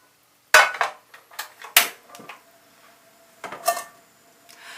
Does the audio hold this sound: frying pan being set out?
yes